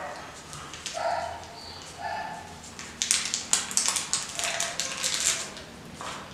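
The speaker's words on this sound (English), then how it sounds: "The dogs are performing." Dogs bark, yip and whimper at moderate distance in a Cape Town setting, with scattered short calls and taps over about six seconds, mixed with background noise.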